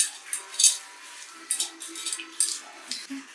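A spoon or utensil scraping and clinking in a large bowl as crushed ingredients are mixed with chopped onion greens for fritters; soft, irregular taps and scrapes, quiet and close, with no talking.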